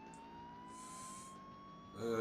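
A police car siren in the racing game Burnout 2: Point of Impact, sounding as one steady, slowly rising electronic tone held throughout at moderate level, with a louder burst of sound at the very end.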